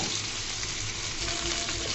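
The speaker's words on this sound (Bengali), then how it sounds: "আলুগুলাকেও সুন্দর করে লাল লাল করে ভেজে নিব" Potatoes fry in a pan until reddish-brown, giving a steady, dense hiss that holds for the whole stretch at an even level, with no talk over it.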